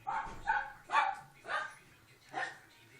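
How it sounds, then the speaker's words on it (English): A dog barks five times in an even rhythm, each bark short and mid-pitched, fairly close, in a quiet indoor room. "That's my dog, don't worry about it."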